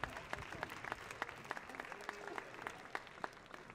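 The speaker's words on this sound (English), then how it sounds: "let's give a round of applause for them" Graduating seniors receive applause from an audience at a school awards broadcast: a faint, distant wash of many hands clapping with a few sharper individual claps standing out.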